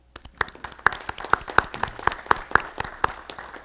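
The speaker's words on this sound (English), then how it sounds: "I think we owe her a round of applause" Sparse clapping at a city council meeting, a few hands making distinct separate claps at an uneven rhythm over a quiet room, fairly close and short-lived.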